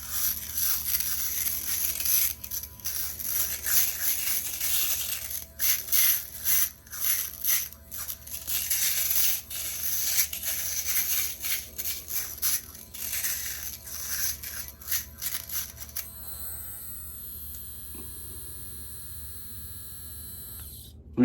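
An Evo micro travel shaver runs close by with a steady high-pitched buzz, cut by irregular crunching bursts as it moves over stubble, then settles into an even hum before a final click.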